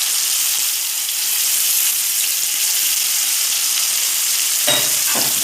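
Minced meat with spices being mixed for a potato gratin, a steady frying sizzle in a pan with a couple of short utensil scrapes near the end.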